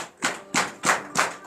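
A church congregation at a morning prayer service in Benin claps in acclamation of the Lord, four steady bursts of loud, crisp group applause in an even rhythm, with no talking.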